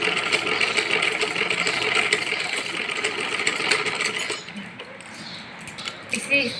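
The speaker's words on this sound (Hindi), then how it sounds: "हम इस पर सिलाई कर देंगे। चलो इसको सिल लेंगे।" A sewing machine stitches cloth with a fast, steady mechanical whir and rattle that runs loud for about four seconds, then stops, leaving quieter handling clicks and light clinks.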